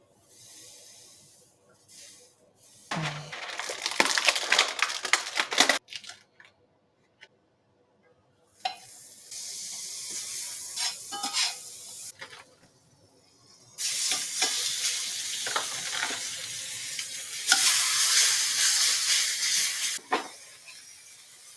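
Steak sears in a pan beneath a splatter cover, giving loud bursts of crackling sizzle that stop and restart several times, with short quiet gaps between stretches of frying.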